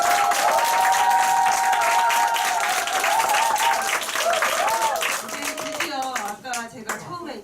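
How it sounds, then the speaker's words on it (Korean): An audience claps and applauds at a Nu Skin group seminar in Korea, steady dense clapping that fades toward the end while a voice and music tones run underneath. "저희 조영기 사장님하고 김승철 사장님께 큰 박수 부탁드립니다"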